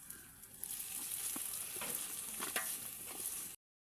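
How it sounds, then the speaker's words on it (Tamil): Ginger garlic paste and 200 grams of tomato sautéing for beef biryani, a steady close sizzle with scattered stirring scrapes, then abrupt silence. "இஞ்சி பூண்டு விழுது, தக்காளி 200 கிராம், சேர்த்து நன்றாக வதக்கிக்கொள்ளும்."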